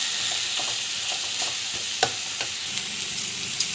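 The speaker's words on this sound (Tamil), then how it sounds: "ஸோ நல்லா வந்து வதக்கிக்கோங்க" Chili, turmeric and coriander powder sautéing in a pan, a steady broadband sizzle with occasional sharp clicks of a spoon stirring, close and continuous, no voices.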